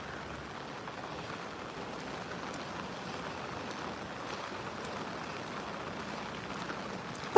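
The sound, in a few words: rain falling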